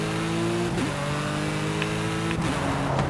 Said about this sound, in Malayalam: അതാണ് ഗിയർ ഷിഫ്റ്റ്.